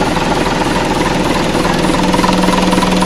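A loud Isuzu trailer truck engine runs steadily with a rough, rumbling idle and constant mechanical vibration throughout.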